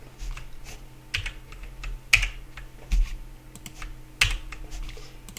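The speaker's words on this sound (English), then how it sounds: "We would start by typing cd, change directory" Close-up typing on a computer keyboard, a series of irregular key clicks with a few louder taps, over a low steady hum.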